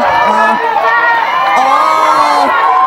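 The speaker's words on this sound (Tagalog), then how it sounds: "Sigawan ang mga loyalistay." Loyalist supporters at a political rally shouting and cheering in a loud, close crowd, with whoops and voices rising over one another in short bursts.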